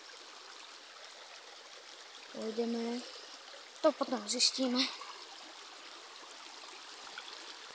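A flowing stream runs outdoors as a steady, close rushing wash of water throughout, with someone speaking briefly over it in the middle.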